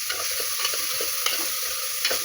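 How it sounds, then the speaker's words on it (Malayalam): Carrots and beans fry in a pan under a constant close sizzle, with quick rhythmic stirring scrapes of a spoon repeating every half second or so. "ഇനി ഇത് നല്ലതുപോലെ ഇളക്കി കൊടുക്കുക."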